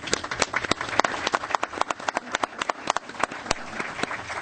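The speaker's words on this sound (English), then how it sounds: "Can you give applause for that?" A small group at a governing board meeting applauds, with distinct individual claps standing out sharply in an uneven rhythm against a light crowd patter, close and fairly loud.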